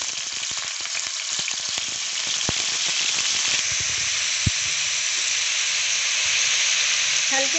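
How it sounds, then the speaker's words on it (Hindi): Cubes of paneer frying in hot oil in a kadai for a paneer gravy, a loud, steady sizzle and hiss that holds throughout with no talking over it. "तो तेल गरम हो गया, इस पर पनीर को हम छोड़ देते हैं।"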